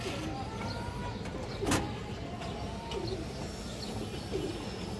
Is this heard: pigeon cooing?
yes